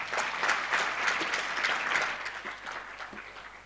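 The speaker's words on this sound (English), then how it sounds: "Let's clap again for our presenters" An audience at the 2022 Africa Evidence Summit claps steadily for the presenters, a dense, even wash of many hands sustained for several seconds at moderate volume.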